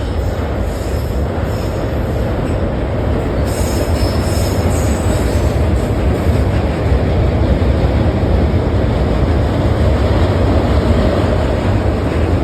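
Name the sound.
train crossing the Saraighat bridge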